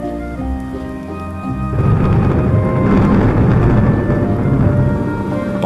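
Steady rain in Etosha, Namibia, swelling into a broad wash of falling water with low rumbling thunder underneath, growing heavier after the first couple of seconds and continuing without any voices.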